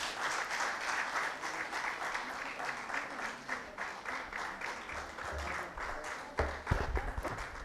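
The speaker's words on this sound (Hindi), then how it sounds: "और तालियां बजती रहें।" A standing ovation at a Hindi-Urdu poetry gathering: dense, sustained clapping from the crowd that carries on steadily throughout, with a few low thumps near the end.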